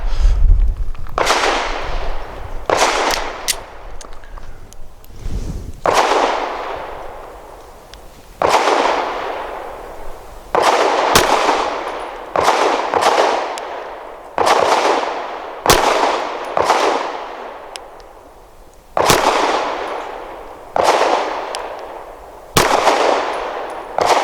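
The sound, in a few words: pistol gunshots from a Girsan MC28SA firing Nosler 115 grain hollow points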